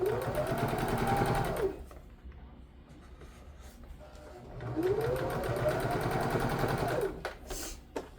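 A sewing machine stitches a seam along the bottom edge of bias tape on a robe, running in two long steady bursts with a quiet pause between them.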